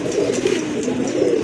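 A white-breasted Rasgolla fancy pigeon coos close by in a soft, low, throaty burble that rolls on continuously for a moment.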